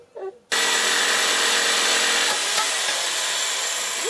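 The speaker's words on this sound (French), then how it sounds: "Il va y avoir du ponçage." A power sander grinding on wood while building a cat tree starts abruptly and runs loud and steady nearby, a dense continuous whine after a brief quiet moment.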